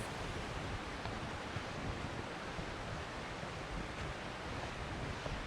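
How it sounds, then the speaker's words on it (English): A creek runs in early spring at Cumberland Gap, a steady, full rush of flowing water that holds an even level throughout, with no voices. "I love the running water, which is early spring."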